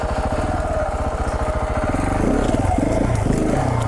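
A KTM 690 Enduro dual-sport motorcycle rides through cedar trees on a mountain trail, its single-cylinder engine thumping close and loud in a fast steady rhythm, then roughening under added throttle.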